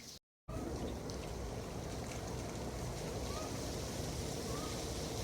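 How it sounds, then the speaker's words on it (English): Steady dense patter of water dripping and trickling as ice from an ice storm melts off trees in the sun, like heavy rain, continuous and fairly close with no talking. "all of the ice on the trees is starting to melt because the sun's coming out"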